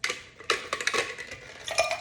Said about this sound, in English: And then add your ice.